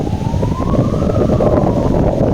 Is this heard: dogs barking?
no